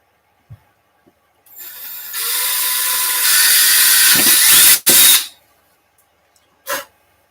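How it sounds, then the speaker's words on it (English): A power drill bores a hole while a snap pistol is being built, whirring loudly and steadily for several seconds and then stopping abruptly. A few clicks and a short burst of noise follow, with no talking. "let's drill our hole."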